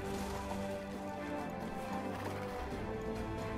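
A horse gallops in the fantasy strategy game Age of Wonders III, its quick clip-clop hoofbeats running steadily beneath a dense layer of game music and effects, with no voices.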